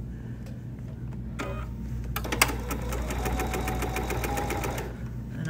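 A sewing machine stitches a 3/8-inch seam on a quilted cosmetic project bag, a steady mechanical whir that starts partway through and runs close and continuous to near the end over low background hum.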